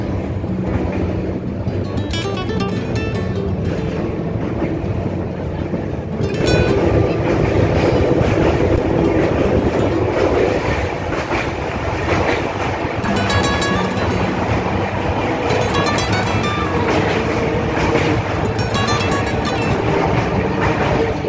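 A train racing at high speed across the Hooghly River. A loud, continuous rumble carries rhythmic rattling of wheels and carriages with rushing wind, and a heavier surge partway through.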